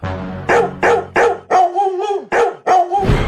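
In a cartoon, a dog barks loudly about seven times in a quick rhythm, close up and with no other sound.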